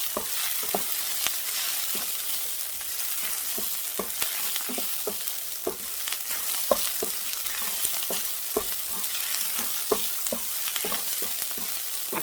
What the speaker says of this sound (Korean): 센 불에서 볶고 있어요 여러분